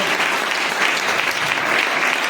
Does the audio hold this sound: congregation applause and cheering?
yes